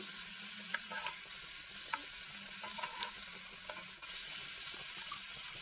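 Fat and young jackfruit curry frying steadily in a pan, with a continuous sizzle and a few scattered stirring scrapes and clicks from the utensil, close up with no talking.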